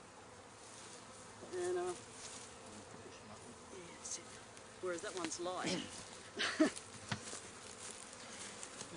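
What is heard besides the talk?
bees buzzing around a Langstroth beehive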